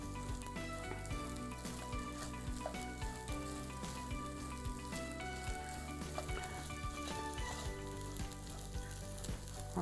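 Rice and carrots frying in a pan for vegetable pilaf, a steady dense sizzle with crackling pops that stays even and close throughout, with occasional stirring sounds.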